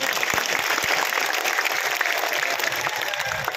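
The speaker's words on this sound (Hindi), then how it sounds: "मैं चाहूंगी कि एक बार सब लोग जोरदार तालियां बजाकर आपका स्वागत करें।" A crowd at a nomination event welcomes visiting saints with loud, vigorous clapping, a thick continuous roar of hands close by, with a few sharper individual claps near the start.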